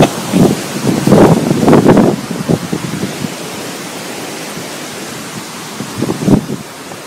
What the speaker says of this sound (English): Oh man, it's windy. It is so windy.